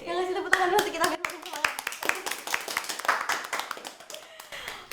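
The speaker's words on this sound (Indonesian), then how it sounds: "Yang ngasih tepuk tangan dulu kita semangat." Hands clapping at a podcast recording, a small group giving a brisk, close round of claps with sharp irregular slaps, with people talking briefly over it.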